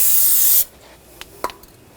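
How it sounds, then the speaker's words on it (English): Brake parts cleaner is sprayed on the brakes of a 2015-2020 Cadillac Escalade in one short, loud, close hiss that cuts off abruptly, followed by faint clicks. "Use a little brake parts cleaner."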